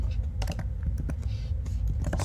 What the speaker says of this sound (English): I can type it right.